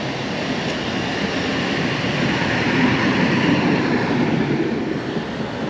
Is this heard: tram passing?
yes